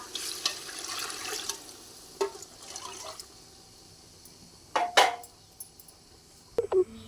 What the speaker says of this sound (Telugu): ఇప్పుడు మనం డబ్బాతో డబ్బా పోసాం కదండి ఇప్పుడు రెండు డబ్బా అదిగోండి రెండు డబ్బాల వాటరు సరిపోతాయండి